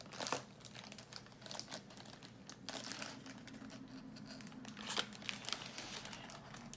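A crinkly blind bag package tears open up close, with loud plastic crinkling, a sharp rip and rustling that carries on afterward.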